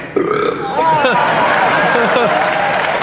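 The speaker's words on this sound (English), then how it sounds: "can you give us a little burp on cue?" A voice actor on stage at a Star Wars Rebels fan convention panel produces a burp on cue, a rough voiced gurgle amid loud crowd noise, cheering and applause in a large hall.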